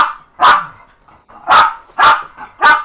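A dog barks indoors in four loud, sharp bursts with short gaps between them, close to the listener, with no other sound in between.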